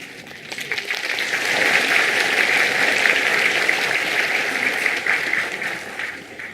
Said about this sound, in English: Thank you for being so polite and generous with your clapping.